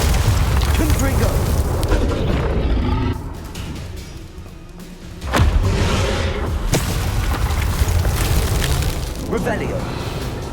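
In Hogwarts Legacy, a Confringo fire spell explodes as a heavy, close boom that cuts through a dense wash of game noise during combat, with speech throughout.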